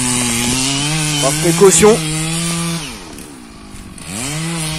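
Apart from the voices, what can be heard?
Stihl MS 660 chainsaw felling a poplar tree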